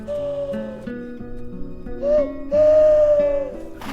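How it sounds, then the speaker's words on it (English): A long, clear human-style whistle from the film War Horse sounds twice, each held note sliding slightly in pitch, over a soft sustained orchestral score with no speech. "that whistle, Joey has been waiting to hear it for 4 years."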